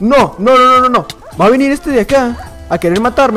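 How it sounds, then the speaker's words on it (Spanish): Minecraft dog in Hypixel Skywars giving a series of short yipping, whimpering barks in quick bursts, close and loud, mixed with an excited voice talking over it. "¡No! ¡Ese es mi perro!"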